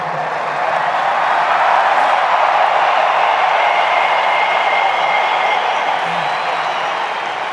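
A big crowd at the World Series sends up a steady, dense roar of cheering and applause that fills the whole stretch, loud and sustained without a break.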